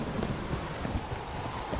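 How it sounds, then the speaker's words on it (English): Steady rain patter with a low rumble like distant thunder in the video game The Witcher 3, continuous and fairly loud, no voices. "how they're taking cover from the rain"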